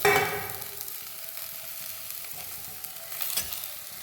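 Vegetables tipped into a hot pan for chicken stew sizzle loudly at first, then settle into a steady frying hiss with a faint stir or clatter near the end.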